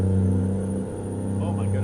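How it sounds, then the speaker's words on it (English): A loud truck in American Truck Simulator rumbles past with a deep steady engine drone that swells and eases, heard close with no speech. "Oh, my goodness, that was a loud truck that went by."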